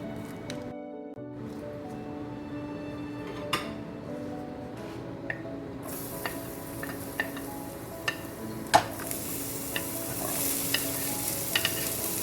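Plantain and squash frying in warm oil in a pan, with steady sizzling and scattered stirring scrapes and clinks growing louder toward the end; no talk.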